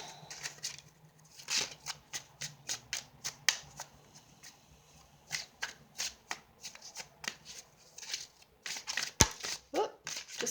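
Tarot cards shuffled by hand in a long run of crisp riffles and flicks, close and fairly quiet, with a brief pause and a sharper snap near the end and no talking.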